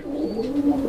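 A male Bombay pigeon coos once, close and clear, a short throaty rolling call with no talk over it.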